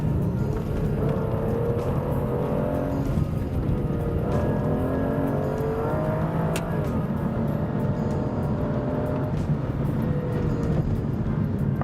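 A 2013 Aston Martin DB9 grand tourer with a V12 engine, driving under a loud, continuous engine roar that rises and falls in pitch as it runs through the revs.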